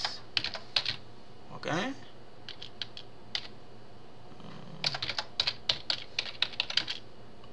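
Keys clack on a computer keyboard in quick clusters of short taps with pauses between, close and crisp, while someone speaks briefly in the middle.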